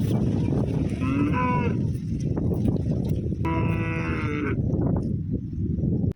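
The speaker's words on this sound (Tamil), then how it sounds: "பார்த்தீங்களா அந்த மாடு வந்து எப்படி கத்துச்சுன்னு சொல்லிட்டு மற்ற மாடு எல்லாமே அந்த மாட்டை பார்த்துட்டே நிற்கிதுங்க." Cows on a farm moo loudly and close by, two long drawn-out calls with a pause between them, over a constant rumble of outdoor background noise.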